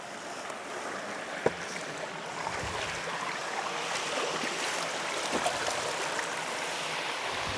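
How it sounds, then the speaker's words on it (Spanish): Irrigation water flows steadily down the conduit of an old noria after being diverted from the main channel, a continuous broadband rushing wash with a brief knock near the start. "ya no baja por la acequia, sino que baja ahora por el conducto de la noria"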